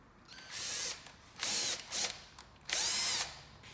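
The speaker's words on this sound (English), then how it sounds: "use a small drill bit, or you could even use the screw that it comes with to just drill the hole" A power drill with a small bit bores a hole in an aftermarket Type R style bumper for a 2016-18 Honda Civic: three short whirring bursts, close and fairly quiet, separated by brief pauses.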